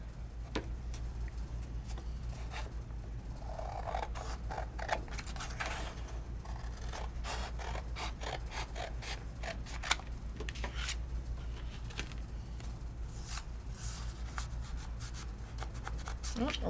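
Scissors snip through red cardstock in quick irregular clicks and crisp cuts, close and fairly quiet over a low steady hum.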